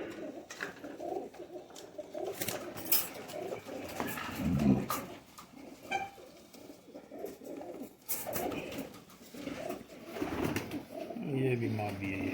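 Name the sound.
pigeons cooing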